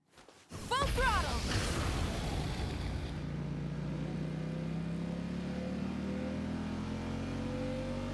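An engine revs at full throttle in the video game Genshin Impact. After a few short chirps it surges loudly into a sustained, rising drone that holds steady for several seconds.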